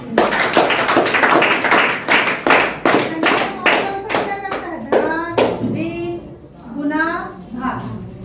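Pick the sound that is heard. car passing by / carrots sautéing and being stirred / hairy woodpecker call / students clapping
students clapping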